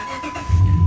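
The 5.7 Hemi engine of a 2006 Dodge Ram 2500 Laramie pickup with a six-speed manual turns over, and a deep, loud rumble kicks in close by after a brief quiet moment.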